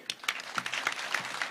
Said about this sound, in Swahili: Pigieni IG makofi.